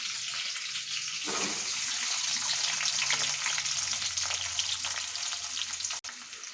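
Curry leaves and onions drop into hot oil and fry with a bright, loud crackling sizzle that settles into a steady hiss, with a short knock near the end and no talking.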